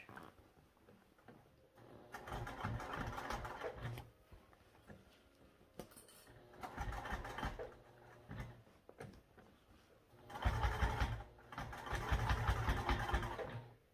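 A sewing machine stitches a seam in bursts of close, mechanical whirring, with three main runs separated by short pauses and quieter stretches, no talking heard.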